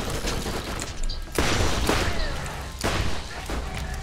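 Gunfire in the video game Borderlands during a co-op session: a few loud, booming shots a second or so apart over a steady background of game sound.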